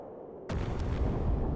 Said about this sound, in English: Was that an explosion?